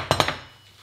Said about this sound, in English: you can take a screwdriver and either a hammer or a mallet of some sort,